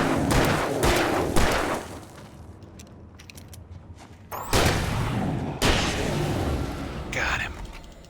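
Several loud shotgun blasts in Alan Wake Remastered, sharp booming shots separated by quieter pauses, close and punchy, with a couple of heavy hits near the end.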